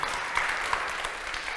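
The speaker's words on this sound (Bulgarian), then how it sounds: "Още един път аплодисменти и за Петър Жотев." Audience applause rises for Petar Zhotev on stage at a talk event about young olympiad achievers, a dense, steady clapping that fills the whole short moment without pause.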